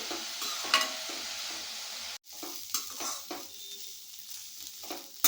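Cauliflower pieces, drained of water, shallow frying in oil with a steady, fairly quiet sizzle and crackle, interrupted by a brief dropout and a few stirring clatters.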